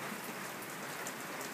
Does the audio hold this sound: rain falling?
yes